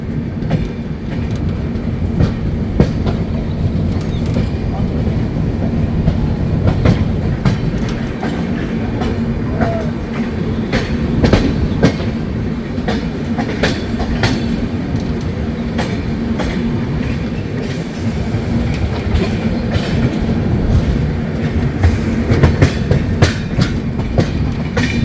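The Kumbh Express, a long-distance passenger train running from Haridwar to Howrah, rumbles loudly and continuously on the rails with rhythmic clickety-clack of wheels over joints, heard close up throughout with no talking.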